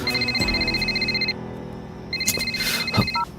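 A phone rings with a bright electronic ringtone, two bursts of repeated beeping tones separated by a short gap, close and clear over a low background hum.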